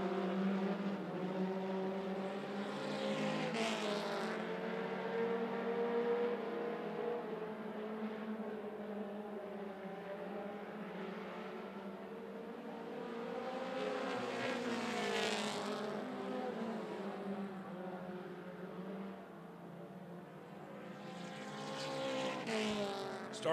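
Mini stock race cars circling 411 Motor Speedway, engines roaring in swelling and fading waves as the pack passes, loud and continuous with a faint announcer voice under the noise.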